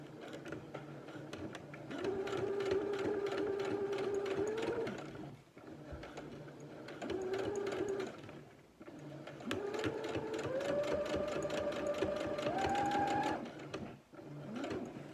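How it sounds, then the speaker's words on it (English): A sewing machine stitches fringes in three long, steady bursts, its rapid mechanical whir rising slightly in pitch as it speeds up, separated by short pauses. "you hear the sewing machine"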